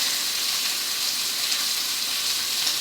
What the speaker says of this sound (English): our asparagus is cooking beautifully. I can hear it sizzling in the back